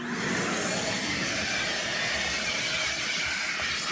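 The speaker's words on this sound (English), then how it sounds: "let me vacuum it up." Shop vac sucking debris from a car's carpet, a steady broadband hiss and whoosh that holds at an even level throughout.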